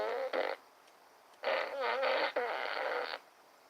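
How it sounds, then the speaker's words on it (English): Fart sound effects: a short raspy toot, then a longer wobbling, sputtering fart run with a brief break partway, close and clear with no talk. "It's nice to have fart sounds without the smell."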